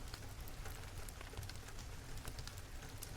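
Soft, steady rain patter as a quiet, continuous hiss with scattered drops, faint and unchanging, laid under a spring-time bedtime story.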